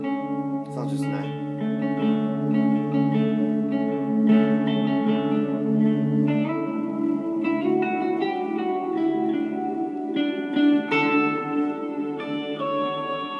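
An electric guitar played through a pedalboard with reverb, sustained chords and light single-note phrases ringing out with a long, washy tail, clean and upfront for the whole stretch.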